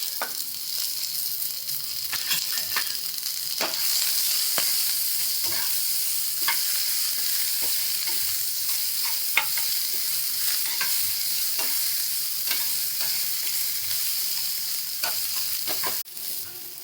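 Sliced onion fries in a pan for a dhaba-style shev bhaji, giving a steady close sizzle that lasts throughout, with frequent sharp scrapes and taps of a spoon stirring, and nobody talking.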